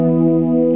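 A brief sustained two-note electric guitar power chord, thick and buzzy with a chorus-like shimmer, ringing out loud and alone.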